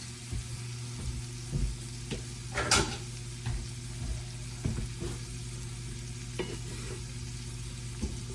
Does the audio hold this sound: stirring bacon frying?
yes